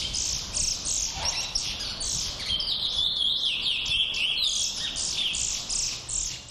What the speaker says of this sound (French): des picolettes, de petits oiseaux chanteurs très prisés en Guyane